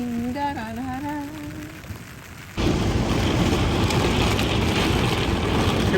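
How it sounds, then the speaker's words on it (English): Heavy rain pours down outside an RV during a thunderstorm, a loud, steady broadband hiss that starts abruptly partway through after a quieter stretch with a brief voice humming a tune. "Here comes the rain"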